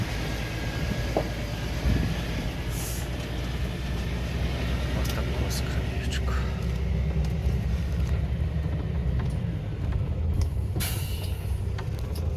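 A vehicle rolling along a farm track during the grain harvest, a loud continuous engine rumble with rattles and creaks, and a voice speaking over it.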